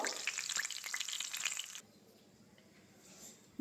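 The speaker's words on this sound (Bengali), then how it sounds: "বাকি চিকেনগুলো আমি ভেজে নিচ্ছি" Chicken pieces for chili chicken fry in oil with a steady, crackly sizzle for about two seconds, then the sound drops away to a quiet kitchen background.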